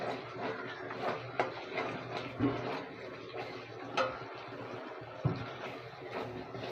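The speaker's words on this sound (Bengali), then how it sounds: "এবার চিনিটা দিয়ে আমরা এটা নাড়াচাড়া করবো" A spoon scraping and clinking in a pan as khichuri is stirred with sugar in oil, soft irregular ticks and taps with a faint sizzle, fairly quiet and close.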